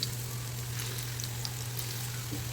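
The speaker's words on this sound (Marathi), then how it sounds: "आता या वड्या मी त्याच्यामध्ये फ्राय करून घेते" Aluvadi slices fry in oil in a pan, giving a faint, even sizzle with sparse tiny pops over a low steady hum. The sound is quiet and continuous, with no speech.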